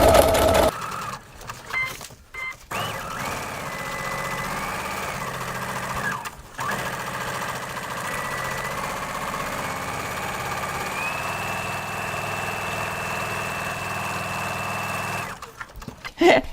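A sewing machine stitches fabric along the edge of its presser foot, running with a steady mechanical whir and hum for most of the stretch, with brief stops near the start and end.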